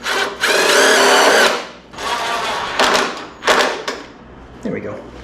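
A power tool drives self-tapping screws into fan shroud plugs on a VW Baja Bug 1600cc engine, giving several loud bursts of whirring, the first and longest followed by shorter pulses, close up with no talk.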